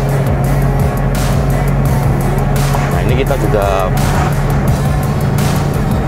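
A car cruises at about 80 km/h along a city road in Purbalingga, its engine and tyre rumble steady and close, with someone talking over it.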